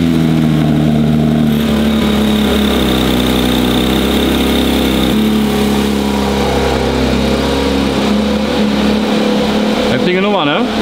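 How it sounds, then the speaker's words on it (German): Porsche 992 GT3 parked overnight, firing up from cold into a loud, steady high idle with a droning low rumble that holds throughout and shifts slightly partway through, with a brief burst of noise near the end. "Porsche 992 GT3, ein absolutes Traumfahrzeug, steht jetzt hier schon über Nacht. Und wir geben jetzt mal einen schönen Kaltstart"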